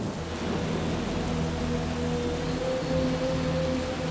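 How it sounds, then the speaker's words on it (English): Heavy rain pours steadily during the 2013 Calgary flood, a dense continuous hiss with low rumbling undertones of thunder, loud and unbroken throughout. "And it rained and rained."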